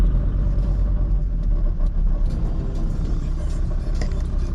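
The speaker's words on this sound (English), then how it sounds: "there's just traffic everywhere" Dense road traffic in Dakar, Senegal, at a standstill: a steady, close, low rumble of idling cars and engines, continuous and unbroken, with no voices.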